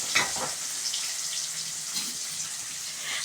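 Onions sautéing in a pan with a sprinkle of salt give off a faint, steady sizzle and soft hiss, quiet and close, with a couple of brief stirring clinks near the start and no talking.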